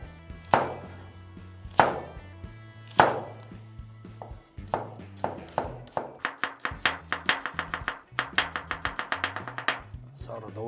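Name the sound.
knife slicing onion and carrot on cutting board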